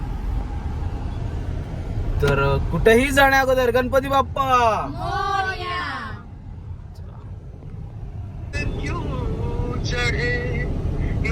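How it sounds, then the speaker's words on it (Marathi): A car driven by Nitin rolls along, a steady low engine and road rumble heard from inside beneath people speaking, chanting and singing in the cabin. "नितीन गाडी चालवत आहे"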